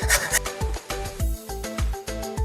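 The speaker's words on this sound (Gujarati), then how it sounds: "આવી રીતે આને છીણી લેવાનું।" Peeled carrots rubbed against a hand grater in a steady rhythm of about eight rasping strokes, close and distinct, with no talking.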